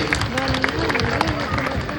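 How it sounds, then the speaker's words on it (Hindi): An audience in a health talk hall breaking into applause, scattered claps blending with crowd murmur and a voice over the top, steady and moderately loud. "तो मैं चाहूंगा पूरे लोगों को इनके लिए अच्छे से तालियां बजा दो।"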